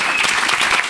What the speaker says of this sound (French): On peut l'applaudir, oui.